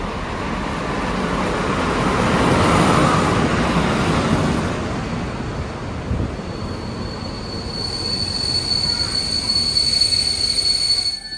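An intercity train rumbles steadily into a station, wheels squealing faintly as it slows; a thin high metallic whine rises near the end.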